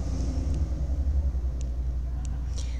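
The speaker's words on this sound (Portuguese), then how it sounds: "Olha os carros passando." Cars passing on a street, a low steady rumble of traffic with a few faint high clicks, rolling by at middle distance.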